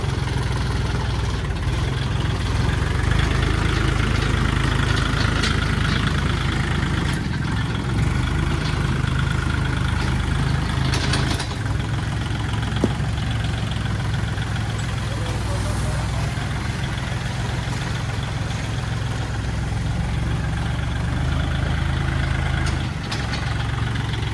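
A Kubota L4018SP tractor engine running steadily nearby, a heavy low diesel rumble that holds throughout, with some talk mixed in.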